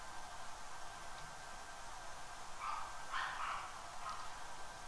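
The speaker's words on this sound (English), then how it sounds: "Yes, the dogs are in the back." Dogs bark faintly and distantly at the back of a room, a few muffled yips rising over a steady hiss of background noise, with no talking.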